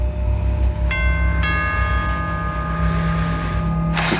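A two-tone bell chime, like a doorbell in a house, rings out twice in quick succession over a steady low hum, its notes ringing on for several seconds before a short sharp noise near the end.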